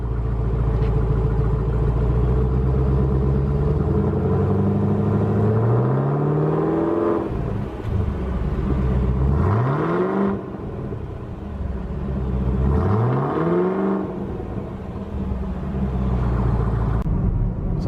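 A new car's engine idles, then is revved three times, each rev a rising then falling roar over the steady rumble, heard close and loud with no one talking.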